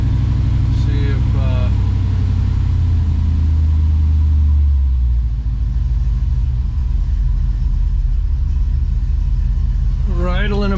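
A 1956 Chevrolet Bel Air engine idles after a cold start, a loud, steady low rumble with a brief surge partway through, heard up close while someone talks over it.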